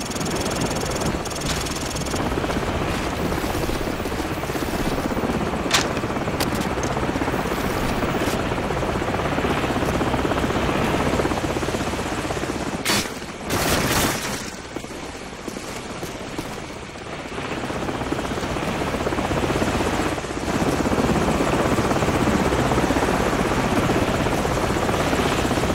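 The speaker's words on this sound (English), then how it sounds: "grab a Stinger and take out that chopper" A military helicopter in Call of Duty 4: Modern Warfare drones and thumps loudly and continuously, its rotor noise filling the scene, dipping briefly midway amid sharp bursts before surging back at full strength.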